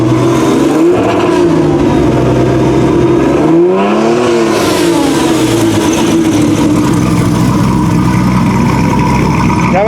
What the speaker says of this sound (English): Rev up again, Jim.